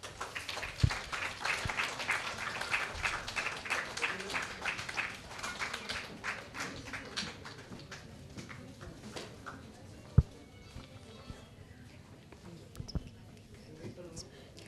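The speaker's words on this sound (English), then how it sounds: "let us welcome her with a round of applause" An audience claps together at a World Diabetes Day breakfast event, a dense burst of applause that starts strong and gradually thins out into scattered claps, with a few sharp taps near the end.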